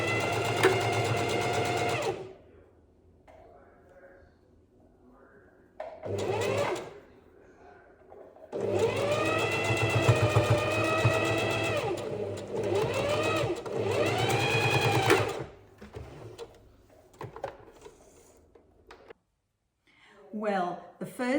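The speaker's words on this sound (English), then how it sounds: "now I'm just going to finish stitching over the top of the other side" A sewing machine stitches ruffles onto an outfit upcycled from thrifted pieces, running in several bursts of fast, close mechanical whirring separated by pauses, with someone speaking in the gaps.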